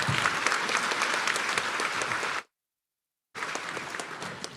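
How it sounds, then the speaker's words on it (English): Audience applause at a parent panel event: steady dense clapping from a seated crowd, broken by a short silent cut before the clapping resumes. "please let's give her a big round of applause, Director of our First Years Center, Catheri"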